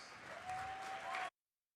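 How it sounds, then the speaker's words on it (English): A crowd at a high school girls' basketball homecoming gives a short burst of applause for the homecoming court. It swells briefly, then cuts off abruptly after about a second and a half. "Let's give them all a big round of applause."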